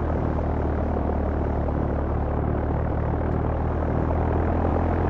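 A propeller aircraft engine in Flight Simulator X drones loud and steady, a continuous close rumble with no break throughout.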